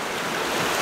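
Ocean waves breaking and washing over rocks on the shore at Elgol, Isle of Skye, a steady loud rush of surf and spray with wind noise on the microphone throughout.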